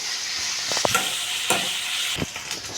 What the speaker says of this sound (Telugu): మనం ఎండు రొయ్యలు కొన్ని వేపేసి పెట్టుకుంటే సరిపోయింది